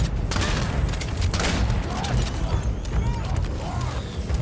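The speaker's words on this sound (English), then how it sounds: "it's gotta be one of the best shotguns still" Shotgun fire and combat in Halo 5: Guardians, loud and dense, with booming blasts and mechanical clatter blended into a continuous battle din.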